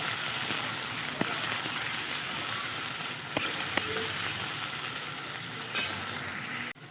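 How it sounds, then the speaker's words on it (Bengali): Potatoes fry in hot oil in a home kitchen, giving a steady, even sizzle with a few faint clicks of a utensil against the pan. No one speaks. "আলুগুলো আমি একটু লাল লাল করে ভেজে নেব"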